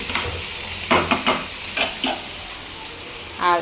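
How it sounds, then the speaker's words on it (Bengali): Panch phoron spices sizzle in hot oil during tempering for a potato bhaji, coming as brief crackling bursts over a steady frying hiss, with a louder spit near the end. "এবার গায়ে একটু পাঁচফোড়ন বাগার দিয়ে নিছি"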